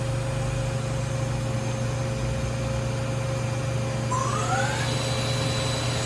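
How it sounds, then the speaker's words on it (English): A 2012 Doosan Lynx 220LC CNC lathe with its spindle turning at 1500 rpm gives a steady low hum with a faint high whine, continuous and quiet, with a brief rising tone near the end. "Spindle's currently running at 1500."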